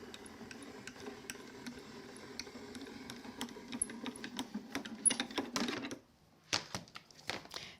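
A die cutting machine rolls card taped to a cutting plate, giving a steady mechanical clatter with rapid ticking clicks for about six seconds, then a short pause and a few sharper clicks.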